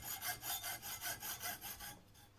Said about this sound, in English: using my hacksaw, I cut the edges off that I don't need to trim it to size.